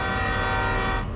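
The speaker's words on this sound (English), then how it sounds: "Got plenty of honk." Train horn in the Derail Valley railway simulator game blaring as one sustained, loud multi-tone honk that cuts off abruptly near the end.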